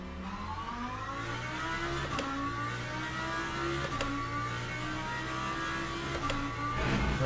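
Race car engine from the Le Mans Ultimate racing game, a steady loud mid-pitched drone that rises and falls with gear changes and revving, with no talk over it.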